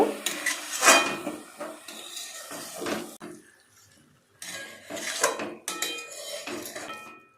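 Cabbage with chopped coriander leaves stirred in a pan for a vegetarian cabbage bhaji, giving bursts of metal scraping and clinking against cookware that stop briefly midway, then resume, close and fairly loud.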